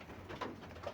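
Homing pigeons giving soft, low coos, faint and somewhat distant against a steady background hum, with no talking.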